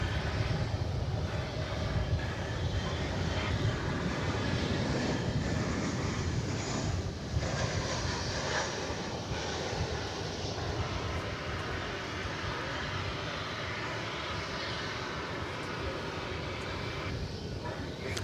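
An MD airliner taxis across DFW airport toward the east side for takeoff, its jet engines producing a steady, broad roar that stays fairly constant and moderately distant throughout.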